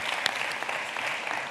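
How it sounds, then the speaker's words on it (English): Audience applause at a circular fashion research conference, a dense, steady wash of clapping that fills the whole short moment with no pauses. "a big applause to you from the audience"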